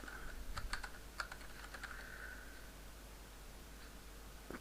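Computer keyboard typing while writing ActionScript 3.0 code for a maze game, a quiet run of irregular key clicks clustered near the start, then sparse taps over a faint steady background.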